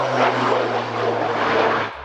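An Embraer A-29 Super Tucano propeller-driven military aircraft drones past, a loud, sustained engine roar with a steady low propeller hum that swells slightly and fades at the end.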